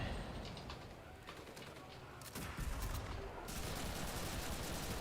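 Gunfire in the World War II shooter Enlisted, set in Tunisia: steady, dense rattling shots and crackling fusillades run throughout, growing louder and busier partway through, with faint chirping in the background.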